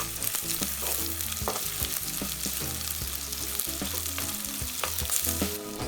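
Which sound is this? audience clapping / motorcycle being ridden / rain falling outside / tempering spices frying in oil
tempering spices frying in oil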